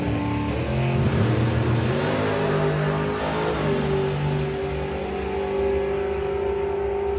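Black Mustang drag racing car accelerating hard off the line at a drag strip, a loud continuous engine roar with rising tones that holds steady throughout, alone without talk.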